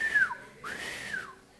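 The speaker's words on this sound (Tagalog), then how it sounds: "Sipol ako ng sipol." Someone whistles two long sliding notes, the first falling, the second arching up and down, heard fairly close with some breathy air noise and no speech.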